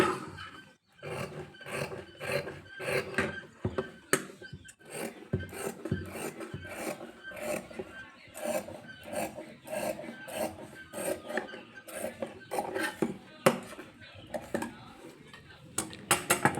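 Scissors trim fabric piping thread after stitching, making a long run of crisp, rasping snips close by. The snips come in a steady, repeated rhythm with brief pauses between strokes.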